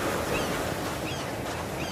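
Sea waves ambience from an Unreal Engine 5 sound asset: soft, continuous surf washing against a shore, a quiet broadband hiss with gentle swells and no speech.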